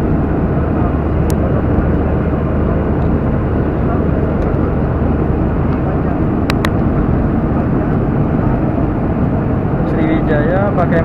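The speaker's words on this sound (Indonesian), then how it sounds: "masih pesawat Boeing 737 seri 800" A steady, loud roar of Boeing 737-800 airliner cabin noise fills the whole stretch, a constant engine drone with faint clicks and a voice in the background.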